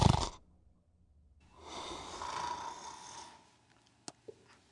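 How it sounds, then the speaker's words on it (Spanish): A man snores in a drawn-out, raspy breath lasting a couple of seconds, fairly soft and close, preceded by a brief sharp sound and followed by quiet with a couple of small clicks. "Dios nos libre de los ronquidos de ese hombre"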